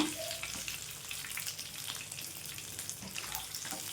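Fish sizzling as it fries in hot oil in a pan, giving a steady, faint, hissing crackle throughout with no one talking.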